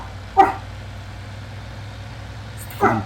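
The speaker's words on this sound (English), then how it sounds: "It's the farmer's dog barking" Two single barks from a farm dog in the video game Farming Simulator 25, a couple of seconds apart, moderately distant, over a low engine hum.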